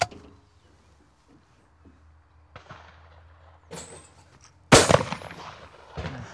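A single sharp shotgun blast at a clay target during hunting-style shooting practice outdoors rings out loud and close, followed by a fainter crack, with quiet ambience before it.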